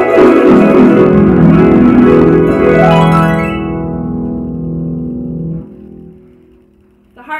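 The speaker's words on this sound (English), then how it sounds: "Or glissandos that sound like this." Harp glissandos sweep in layered rising and falling runs of plucked strings, rich and resonant, then ring out and fade into a softer sustained tail near the end, with no talk.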